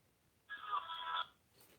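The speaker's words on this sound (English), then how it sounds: "Sorry, phone ringing." A telephone rings once in a short steady burst during a firing pin replacement on a Hi-Point pistol, fairly faint against a quiet room.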